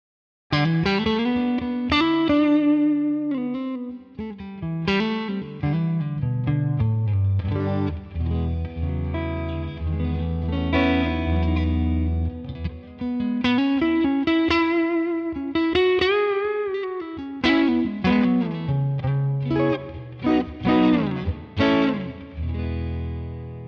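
An electric guitar played through a Neural DSP Tone King amp model with a relaxed Strat setting and big reverb rings out in melodic lead lines and sustained notes, with slight edgy breakup and long ambient tails.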